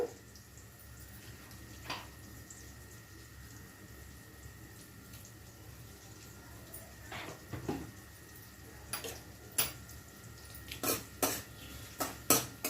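Sliced onions with salt are stirred in a pan for an eggplant fry, faint metal-spoon scrapes and clinks that grow more frequent and louder toward the end over a quiet kitchen background.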